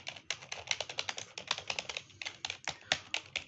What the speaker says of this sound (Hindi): काफ़ी सॉफ्ट और स्मूथ टाइपिंग है इसकी।